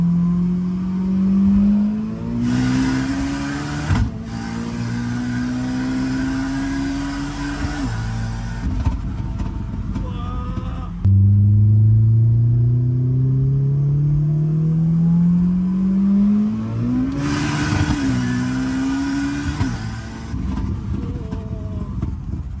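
A 700 hp Volkswagen Golf 2 accelerates hard from third gear, the engine note rising in a long, loud sweep. A sharp drop at the shift leads into another climbing pull in fourth, with a crisp high whine riding over the drive.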